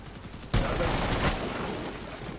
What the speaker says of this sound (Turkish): Adam vuruyorum ölmüyor ki.